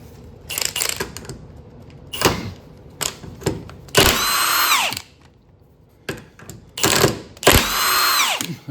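Impact gun bursts loosening the big K-member bolts on a 1997 Mustang Cobra, several sharp rattling hammering runs of a second or two each, separated by pauses, loud and close with no talking.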